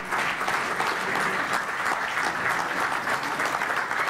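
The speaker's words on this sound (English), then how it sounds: "Ladies and gentlemen, a huge round of applause for Yogesh Bhai." Audience applause at the ICC Awards 2013 ceremony, a dense, even roar of clapping from a large crowd that holds steady at full volume from start to finish, with no voices over it.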